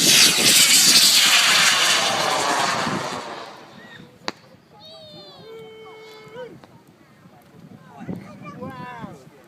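A model rocket lifts off at an outdoor launch event in Cambridge with a loud rushing roar that fades over a few seconds, followed by a sharp click and then people talking and a voice.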